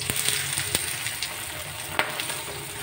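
An egg fries in coconut oil in a pan, a steady bright sizzle with scattered sharp pops and crackles throughout.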